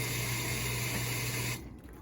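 Hot water rushes steadily from a tap fed by a regulated plumbing line at 60 psi, a broad even hiss for about a second and a half before it abruptly cuts to a faint residual trickle.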